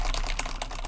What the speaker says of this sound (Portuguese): Como é que é o sonzinho do teclado mecânico?